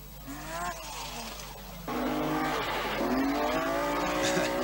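A BMW rally car pushed hard on a rally stage, engine revving loudly as the tires squeal and skid through a slide, then the engine note jumps and keeps howling close by with no talking.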